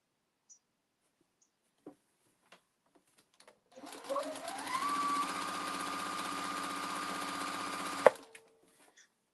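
A sewing machine stitches cotton quilt pieces in one continuous run of about four seconds, close and steady, with a few small clicks and handling noises before and after.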